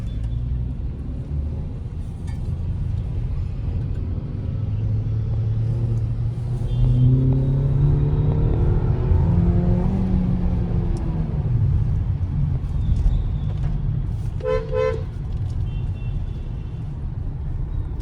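Petrol Kia Seltos 2026 under way on a test drive, a steady cabin engine drone and road rumble that swells as the revs rise mid-way, with no one talking.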